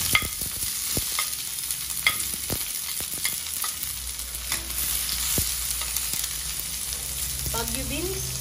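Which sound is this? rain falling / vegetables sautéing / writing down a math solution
vegetables sautéing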